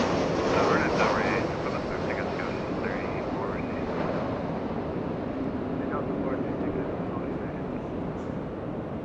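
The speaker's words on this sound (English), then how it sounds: "That's a 767 getting ready to taxi, flying to New York City this afternoon, Delta 436." A Delta Boeing 767 jet sits at Los Angeles International Airport preparing to taxi, its engines producing a steady, broad roar that holds level throughout, with a voice speaking over it.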